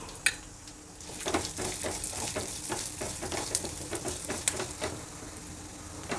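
Fenugreek and coriander seeds dry-roasting in a pan over very low heat: a steady soft sizzle with a run of small crisp ticks and scrapes from stirring, close and continuous, with no voices.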